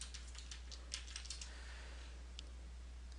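Quiet keystrokes on a computer keyboard typing a web address, a quick cluster of light clicks followed by a pause and a couple of final taps over a low steady hum.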